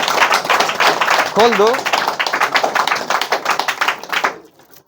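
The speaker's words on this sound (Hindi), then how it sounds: "ताली बजा भैया इन्हें इसके लिए" A group claps loudly for a prize-winning student in a class, dense rapid applause that tapers off near the end, with a brief voice cutting through early on.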